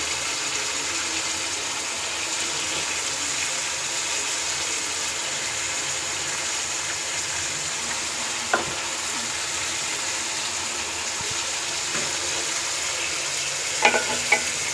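Onions sizzle and fry in a karahi for chicken karahi, a steady loud hiss that runs unbroken throughout, with a few faint clinks near the end.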